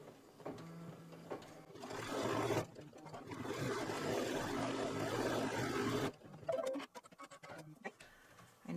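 A Brother Luminaire single-needle embroidery machine stitches a placement line, a fast steady mechanical whir and rattle that runs for several seconds, close up, then stops into quieter clicks and handling noises.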